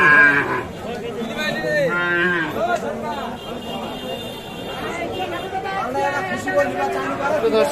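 Sahiwal bulls at a crowded cattle market, low mooing calls rising over dense crowd chatter and a voice speaking close by throughout.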